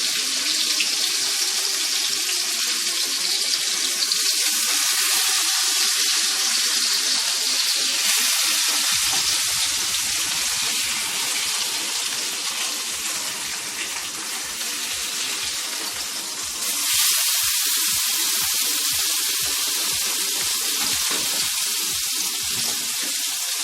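Marlin searing in a hot pan, a loud continuous hiss and crackle that holds steady, dips briefly partway through and then surges again, close and alone.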